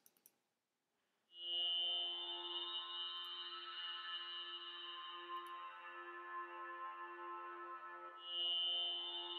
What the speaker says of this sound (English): I use two pad sounds that tend to sound like this.